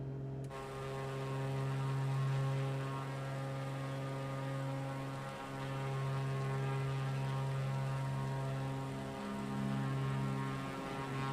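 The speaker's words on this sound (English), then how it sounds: "I like the way it sounds with all the planes going by" Aircraft engines drone steadily in Microsoft Flight Simulator 2024, a continuous propeller-like hum with slight swells as planes pass, moderately loud and unbroken.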